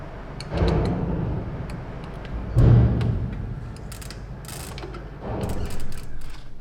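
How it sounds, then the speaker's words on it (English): Torque wrench tightening a bike crank bolt to 40 newton meters, three separate bursts of rapid ratcheting clicks, close and fairly loud, with short pauses between them and no talk. "torque wrench on display once again. 40 Newton meters, here we go."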